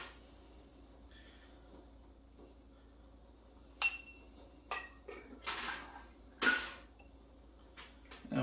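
Glass one-cup canning jars clink as they are set into a pot for boiling, a scattering of sharp, irregular clinks after a quiet start.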